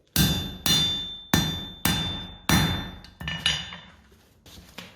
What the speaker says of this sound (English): hammering it out to gain more mass